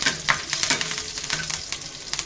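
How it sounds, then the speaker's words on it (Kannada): Curry leaves crackle and sizzle in a hot tadka oil on a pan for a Karnataka-style hagalkayi (bitter gourd) sabji, a steady close frying hiss with sharp spattering pops throughout. "ಸ್ವಲ್ಪ ಕರಿಬೇವು ಹಾಕ್ತಾಯಿದ್ದೀನಿ ನೋಡಿ ಫ್ರೆಂಡ್ಸ್."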